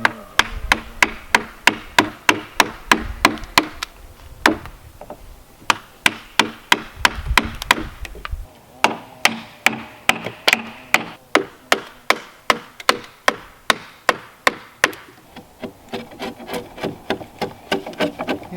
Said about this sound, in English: these chisels kind of make light work of this if they're nice and sharp